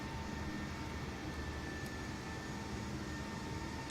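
An Airbus A320neo in TAP Air Portugal livery rolls for takeoff at Porto in Microsoft Flight Simulator 2020, a steady, moderately quiet jet engine roar with a faint high whine running underneath.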